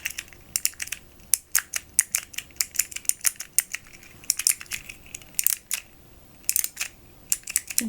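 Clicky buttons on a handheld fidget toy pressed one after another, giving crisp, close shutter-like clicks in irregular bursts, sometimes singly and sometimes in quick clusters, with quiet pauses between.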